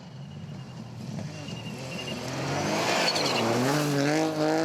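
A non-turbo rally car at a South Canterbury gravel rally charges across a bridge, engine revving harder and rising in pitch as it approaches and grows louder, with tyre noise and no talk.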